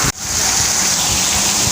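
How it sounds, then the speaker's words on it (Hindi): Heavy rain pours down in Karachi as a steady, loud, broadband hiss that fills the whole span without a break, close to the microphone and with no talking over it. "ये देखिए बारिश देखें आप, क्या धुआंधार बारिश हो रही है।"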